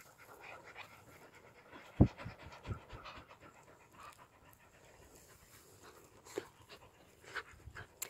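Several dogs pant steadily at close range, with a sharp bump and a few soft knocks breaking through the quiet, even breathing.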